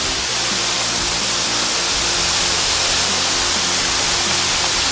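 The fifth waterfall in the Blue Mountains roars as a steady, dense wash of falling water, loud and unbroken throughout, with no voices over it.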